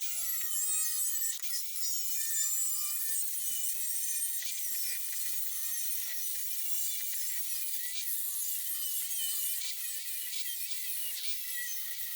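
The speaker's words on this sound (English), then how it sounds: "Let's just brutally cut this thing in half and see what happens." A steel hood side panel for a 1929 Ford Model A sedan being cut in half with a power tool, a steady high, grinding whine that runs on without a break and stays close and loud.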